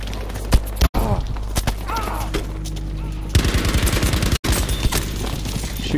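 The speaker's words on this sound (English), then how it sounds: "Shooting at me." Rapid bursts of gunfire in the video game Battlefield crackle loud and dense in close succession, with brief dropouts and shouted voices in the mix.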